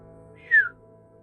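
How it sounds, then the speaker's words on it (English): Machine beeping in the Arknights video game, a single short rising-then-falling chirp, bright and whistle-like, standing out clearly over a faint low music bed with no talk. "Inquisitive beeping."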